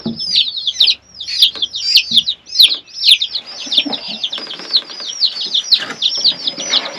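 Young chickens give rapid, high chirps and cheeps in quick bursts, close and fairly loud, with some faint splashing and fluttering underneath.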